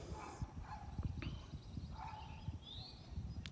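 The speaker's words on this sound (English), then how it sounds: "Sorry about the dog barking in the background," A dog barks and yelps faintly in the distance of an outdoor garden, soft and intermittent under a steady wash of background noise, with no one speaking.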